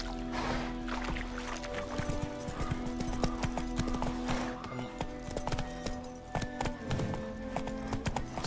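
Roach the horse gallops in The Witcher 3, rhythmic clip-clop hoofbeats close and steady, with game music tones and faint voices underneath.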